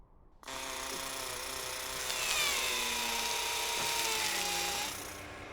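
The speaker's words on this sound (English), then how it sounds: "The drill on the arm allows us to grab some of that rock and deliver it to the laboratory instruments inside the body of the rover." Drill on the robotic arm of NASA's Curiosity Mars rover boring into rock in an animation, a steady whirring, grinding drone with a slowly falling pitched whine, continuous and fairly close for several seconds.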